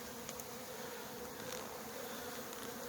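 Honeybees flying around their hives in spring, a dense steady buzzing hum with an outdoor hiss, fairly faint and continuous, no talking.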